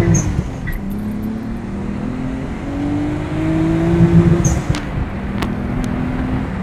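A Nissan Skyline accelerates hard from a standstill to 100 km/h, its engine note climbing steadily through several gear shifts, loud and close from inside the car.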